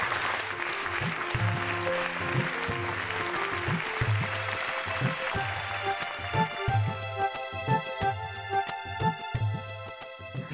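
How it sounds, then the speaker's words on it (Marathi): A studio audience claps loudly in a Marathi TV serial scene. The dense, sustained applause runs over rhythmic music with a thumping beat for about ten seconds. "सगळ्यांनी जोरदार टाळ्या"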